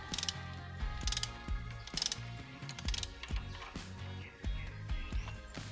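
A hand ratchet turns a spark plug socket on a 4x4 engine, giving close, crisp bursts of clicking pawl strokes in a steady repeating rhythm with short pauses between pulls.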